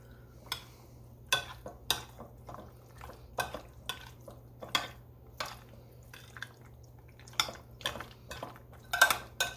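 A spoon clinks and scrapes against a bowl while stirring a shrimp pasta salad, a series of sharp, irregular taps and knocks heard close up in a quiet room with no talking.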